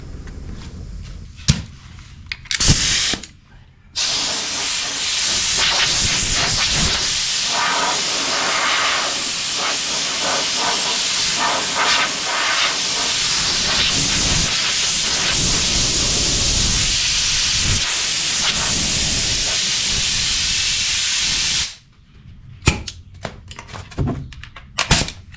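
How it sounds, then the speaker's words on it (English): An air hose blows off a freshly painted gloss-black surface in a garage, a loud steady hiss running for about eighteen seconds after a couple of short bursts, with quieter handling noises before and after. "Might need to grab my air hose so I can blow it off."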